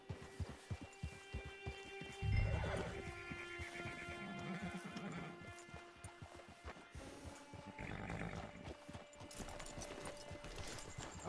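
A horse in Red Dead Redemption 2 whinnies loudly while its hooves clip-clop in a steady rhythm near the listener, with ambient game sounds underneath and no talking.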